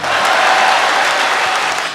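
Steady audience applause at a Tamil speech event, a dense continuous wash of clapping that holds loud and even for the whole span with no voices over it.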